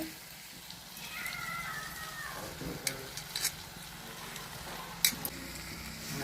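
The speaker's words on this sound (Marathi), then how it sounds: "आता मीठ टाकते परतून द्यायचं चांगलं" A spatula stirs paneer bhurji in a frying pan with a low sizzle underneath, and a few sharp scrapes and clinks of the utensil against the pan stand out.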